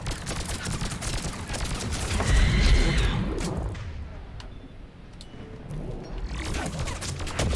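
Dense gunfire fills a firefight in the video game Mass Effect 3. Bursts of shots and heavy impacts build to a loud peak, then fade to quieter scattered shots before rising again.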